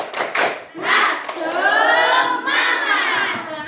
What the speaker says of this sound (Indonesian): bagaimana kalau kita tepuk semangat dulu ya?